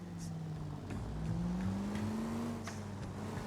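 A car engine drones steadily at moderate volume during a car chase in the video game L.A. Noire, its pitch climbing gradually as the car accelerates, with a few faint clicks over it.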